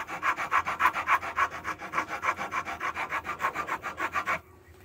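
Wood rasp filing a knife handle by hand, a steady run of about twenty-five rhythmic rasping strokes, close and loud, stopping abruptly near the end with no talking.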